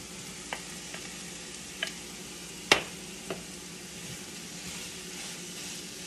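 Onions, spinach and salt cod sautéing in a pan make a soft, steady sizzle, broken by a few sharp clicks and one louder clatter of a utensil against the pan.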